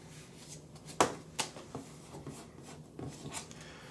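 A small deck of tarot cards is shuffled by hand nearby, with soft riffling and a few sharper snaps and taps of the cards in quick, uneven bursts.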